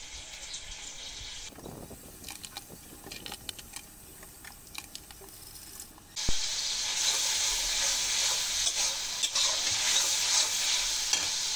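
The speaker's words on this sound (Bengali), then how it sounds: "লবণ, হলুদ আর সামান্য পরিমাণ ঝালের গুঁড়ি দিয়ে মশলাটা সুন্দর করে কষিয়ে নেব।" Spices with salt, turmeric and chili powder being sautéed in a pan for a bean and tilapia bhuna. Quiet stirring clicks and scrapes come first, then a loud, steady sizzle takes over as the masala fries, with no talking.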